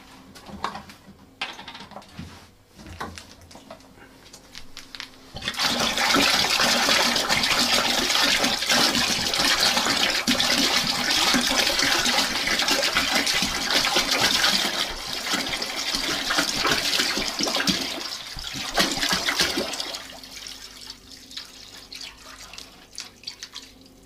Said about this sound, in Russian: заливать нашу оставшуюся воду